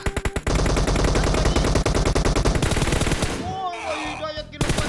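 Automatic gunfire in PUBG Mobile: a loud, rapid burst of close shots running for several seconds, then fading into softer game effects before a final shot.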